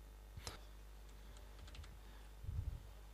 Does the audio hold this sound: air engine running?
no